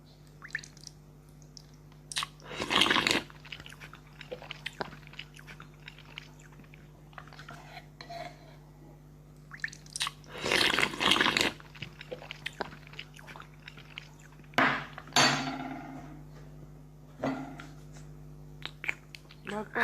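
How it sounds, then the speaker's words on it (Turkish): Intermittent crunchy chewing bursts as a man chews a toothbrush, close and fairly loud, separated by quieter stretches with soft wet clicks and occasional voices. "Kıtır kıtır ses geliyor aslında."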